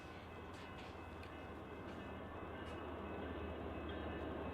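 BNSF freight train passing after rounding a curve through a rail interlocking, a steady distant low rumble and rolling drone that grows slightly louder throughout, with no talk.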